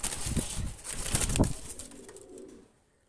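Golden pigeons, Pakistani high-flyers, give soft low coos up close, with a brief flutter of wings partway through before the calls fade into quiet.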